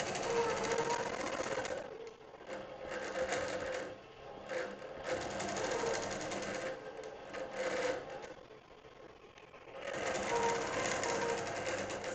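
A sewing machine doing free motion quilting, its needle chattering in rapid bursts that start and stop in several runs, moderately close and fairly quiet, with short gaps between stitching passes.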